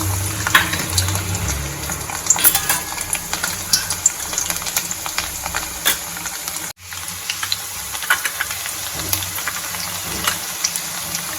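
Garlic dropped into hot oil for a Gujarati tandalja leaf bhaji fries with a steady broadband sizzle and crackle, with scattered spatters, a brief dip in the middle, then continuous frying.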